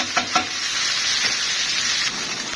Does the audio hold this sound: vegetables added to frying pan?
yes